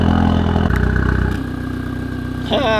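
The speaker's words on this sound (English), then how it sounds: "It's doing that weird RS idle thing." A Ford Focus RS exhaust idles loud and close with a rough, lumpy burble, and a sharp, wavering whine rises near the end.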